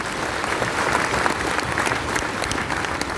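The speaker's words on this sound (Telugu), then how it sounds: "ఒక్కసారి మనకి బిగ్ అప్లాజ్ ఇవ్వండి" Audience at a homemakers' business meeting clapping together, a dense, loud burst of applause from a crowd that carries on evenly for a few seconds.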